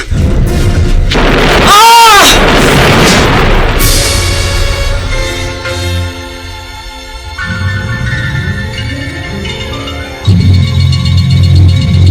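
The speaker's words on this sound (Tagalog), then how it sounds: "Ano ang mangyayari kay Omar sa pagsabog na yon ng tangke ng LPG?" A loud, close LPG gas tank explosion booms and roars, followed by crackling, rushing debris and sustained tonal noise, with voices and music mixed in.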